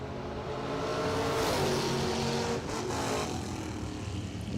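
Bracket drag racing door cars launching from the line at the Superbowl of Bracket Racing, a loud sustained engine roar that swells and shifts as the cars pull away down the track, with no talk.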